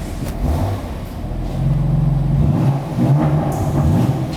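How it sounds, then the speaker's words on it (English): A loud, close car engine rumbles and revs with its exhaust valve opened, a deep, throaty exhaust note that swells and eases. "so I open my exhaust valve"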